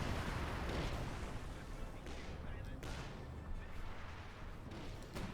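An artillery barrage in the World War II strategy game Company of Heroes 2, a faint, continuous rumble of distant shelling with a few sharper blasts, heard under talking.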